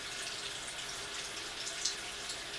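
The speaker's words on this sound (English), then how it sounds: "run the water on my hand" Tap water running steadily over a hand at a bathroom sink while cleaning makeup brushes, a soft continuous hiss with faint splashing, close and fairly quiet.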